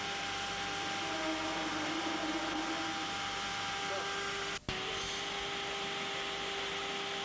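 A 1986 Burges Desser CNC milling machine runs in a workshop, its bed traversing beneath a fixed cutter with a steady broadband machine whine, tonal hum and one sharp click partway through.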